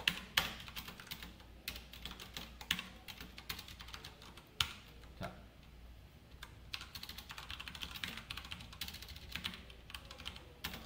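Code is typed on a computer keyboard in quick, irregular bursts of close, crisp key clicks with brief pauses between runs and no talk.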